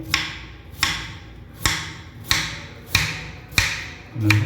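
A knife chops through bread on a board for bread French fries, six evenly spaced sharp cuts about two thirds of a second apart, close and clear, with no talking.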